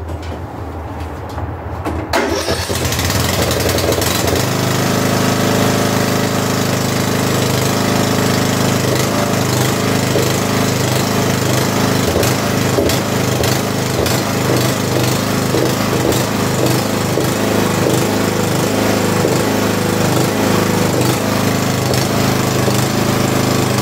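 Riding lawnmower with a repaired plastic transaxle starting up, then its small engine running steady and loud nearby with a constant rattling, clattering drone that carries on without letup.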